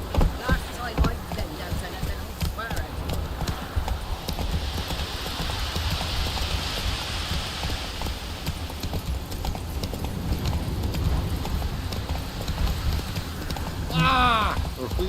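Horse galloping in the video game The Witcher 3, steady rapid hoofbeats running throughout at close range, with a spoken voice and game ambience in the background.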